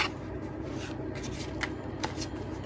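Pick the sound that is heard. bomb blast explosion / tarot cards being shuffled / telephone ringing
tarot cards being shuffled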